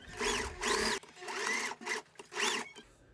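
A sewing machine topstitches the ear loop of a filter-replaceable fabric face mask, running in three or four short, close bursts separated by brief pauses.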